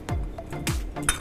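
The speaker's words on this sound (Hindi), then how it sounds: "अब जार में हम ये लहसुन, ये अदरक डालेंगे" Garlic and ginger drop into a grinder jar, making two or three quick, close clinks and taps against the jar, short and sharp with nothing else heard.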